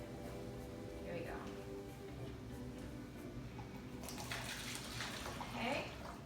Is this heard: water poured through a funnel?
yes